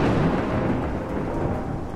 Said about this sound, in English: The rain is doing its job, Hetty.